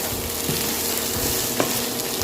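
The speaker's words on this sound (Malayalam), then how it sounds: "നമുക്ക് ജസ്റ്റ് ഒന്ന് നല്ലപോലെ ഇളക്കി ഒന്ന് റോസ്റ്റ് ചെയ്തെടുക്കാം" Potatoes roasting in a pan on a low flame, with a steady sizzle and frying hiss throughout and a few scraping stirs of the spoon, close and alone.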